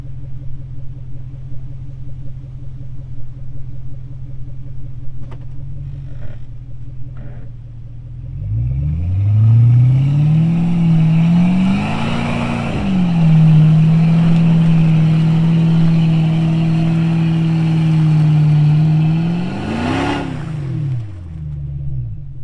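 A Jeep WJ engine revs hard and accelerates off-road in a backyard off-road park, rising from a steady idle into a loud, sustained roar that climbs, holds and surges again near the end.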